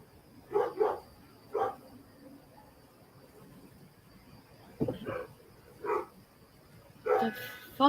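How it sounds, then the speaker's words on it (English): A dog barks in scattered bursts of one or two yips and woofs, fairly close indoors, with long quiet gaps and a faint steady hum in between. "The fuck is that dog doing?"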